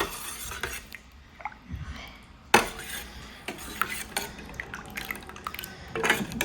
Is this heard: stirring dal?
yes